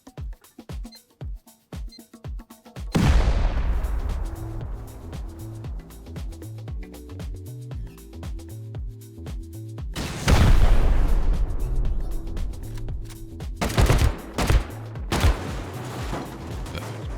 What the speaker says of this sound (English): I'm going to throw a C4 on this wall, and then I'm just going to rocket and Explo out the rest of the wall